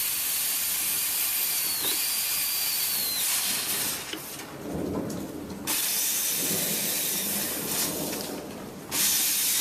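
Continuous close steam hiss from a steamer working loose the glued filler spline of a caned chair seat, steady and loud with a few short drops and surges in pressure, and no speech.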